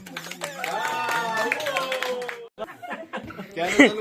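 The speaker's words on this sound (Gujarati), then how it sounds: "તાળીઓ થઈ જાય આરો માટે ભાઈ" Family members clap and laugh for Aaro during a Diwali celebration at home in Canada, with a brief burst of handclaps and chuckles under lively overlapping talk.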